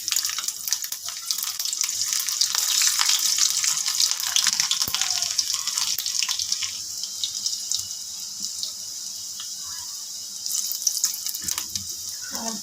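Garlic hisses and sizzles in very hot oil with mustard seeds while a spicy Kathiyawadi dahi tikhari is prepared, a steady bright crackling hiss held close and fairly loud, with a few sharp pops.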